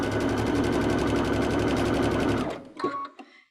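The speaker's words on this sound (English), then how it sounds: "you're just going to sew just enough to catch." A sewing machine with a double cording foot runs steadily, stitching fabric folded over cord to make double welt, a loud, even mechanical chatter for about two and a half seconds before it stops, followed by a few soft handling clicks.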